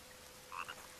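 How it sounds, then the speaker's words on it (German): A frog in the survival video game The Forest gives a faint, brief double croak against quiet ambient game noise. "Und es gibt auch Frösche, aber die kann man glaube ich nicht töten."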